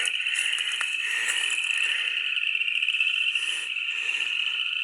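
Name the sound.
bullfrogs and crickets in the woods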